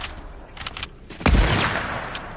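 Sniper rifle gunfire in a Fortnite Zero Build match: a sharp, loud shot with a booming low tail about midway, preceded by fainter clicks and game noise.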